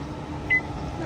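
A single short electronic beep from an electric car charger as charging starts, clear and brief, over a low steady hum.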